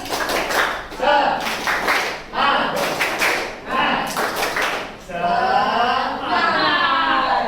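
Classroom of junior high students doing a rhythmic spirit clap in a religious education lesson, several bursts of sharp group clapping in a fast pattern, with voices chanting along and a teacher's voice nearby.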